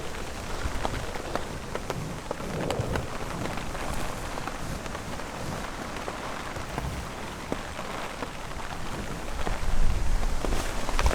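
Strong wind-driven rain lashes sideways during a storm on a Utah backcountry trek, a dense, steady hiss with scattered sharp drops hitting close by, loud and continuous throughout without speech.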